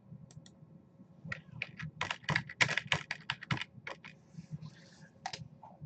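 Someone types on a computer keyboard in an irregular burst of crisp, close key clicks, fast clusters separated by short pauses over a faint low hum.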